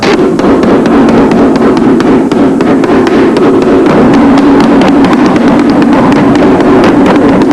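A dovetail drawer is hammered together with a rapid, loud, dense series of sharp blows on wood that keeps going without a break.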